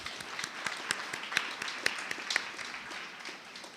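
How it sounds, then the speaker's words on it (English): Applause from a gathered crowd at a community celebration event, a fairly quiet, distant-sounding patter of many hands with a few sharper individual claps standing out. "Let's give them all a round of applause."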